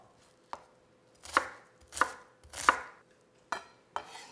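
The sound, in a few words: knife chopping onion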